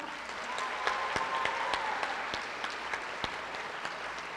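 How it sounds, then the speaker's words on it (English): A school awards ceremony audience claps for the yearbook staff, a fairly faint, steady wash of applause from a crowd with a few sharper individual claps standing out. "now we would like to have you guys give them a big round of applause"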